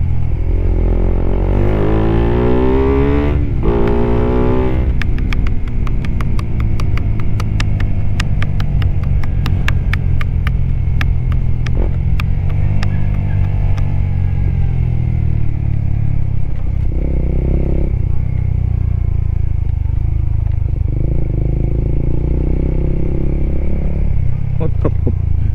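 A Suzuki Raider 150 Fi motorcycle with minor issues runs steadily close by, its engine note rising and revving in bursts before settling back to an idle, with a person talking over it.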